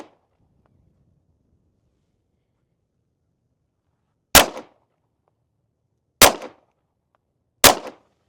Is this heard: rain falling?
no